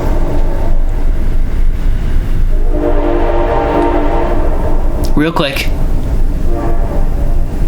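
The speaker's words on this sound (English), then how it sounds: "So that was the train" A train rumbles past and sounds a long, loud horn midway; a voice speaks briefly near the end.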